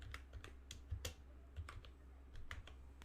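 Fingers tap out short bursts on a computer keyboard, with quiet, irregular clicks and occasional heavier key presses, close and alone without voices.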